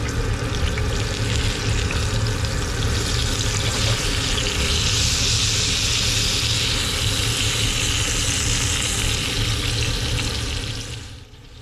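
Red snapper fillet sizzles in a skillet for a meunière dish. A dense, steady frying hiss runs close and loud for about eleven seconds with no talk, then cuts off abruptly at the end.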